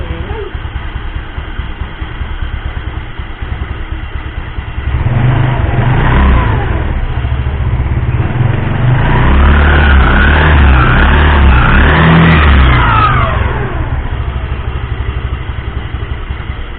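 A 2006 Yamaha Mio scooter engine with a 150cc EasyRide engine idles, then revs up loudly for several seconds with rising and falling pitch before settling back down, close and continuous.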